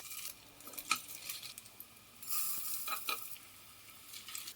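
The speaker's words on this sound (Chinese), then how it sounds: "煎至一面金黄，翻另一面。" Spoonfuls of chicken and lotus root mince fry in a little oil in a pan, a quiet steady sizzle with a few sharp spoon scrapes and taps against the pan.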